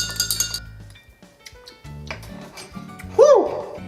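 Lime juice and simple syrup stirred for limeade, with bright clinking of a spoon against glass, several scattered taps and ringing tones, close and fairly loud.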